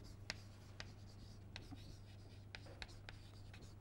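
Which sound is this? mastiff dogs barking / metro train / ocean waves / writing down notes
writing down notes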